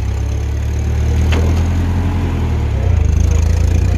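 A 1957 Ferguson 35 TVO tractor engine runs loud and close at about 1200 rpm, a steady low throb that grows slightly rougher near the end, with no talk.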